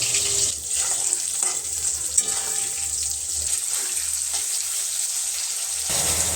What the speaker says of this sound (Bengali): আর এদিকে মাছ ভাজা হচ্ছে